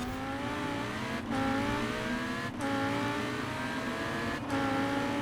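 A Lamborghini-engined Ferrari revs hard and high past 9,000 RPM, climbing steadily with three brief drops between pulls, loud and close with no voices.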